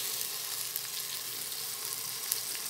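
Onion and tomato sautéing in a pan for a beef and vegetable soup give off a steady, even hiss, close and continuous with a few faint pops, with no voices.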